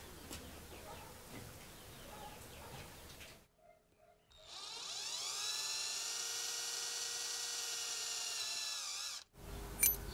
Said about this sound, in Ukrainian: По шаблону розмічаємо місця, де свердління.